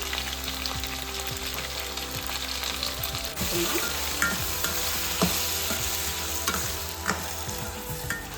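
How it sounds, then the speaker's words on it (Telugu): Cut potato pieces with salt fry in a pan, a loud, continuous sizzle with scraping stirs and occasional clacks of the utensil against the pan. "కట్ చేసుకున్న పొటాటో ముక్కలు వేసుకున్నామండి. కొంచెం సాల్ట్ కూడా వేసుకున్నామండి."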